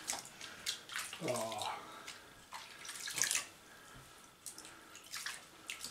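Tap water running to bathe ferrets, a soft, fairly distant splashing and trickling stream heard under brief voices and handling noises.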